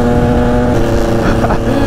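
Steady, loud two-stroke engine drone from a Honda NSR 125 supermoto motorcycle, running low on throttle and close by, with a slight pitch wobble near the end.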